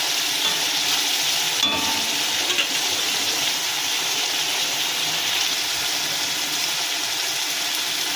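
Meat fries together with chopped tomatoes in a home kitchen pan. A loud, continuous crackling sizzle holds evenly from start to finish, with no talking.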